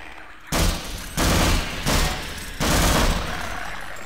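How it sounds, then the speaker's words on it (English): Gunfire in the Half-Life video game: several loud, close bursts of shooting at guards, separated by short pauses, with no voice over the shots. "And just shoot these guys through the bars."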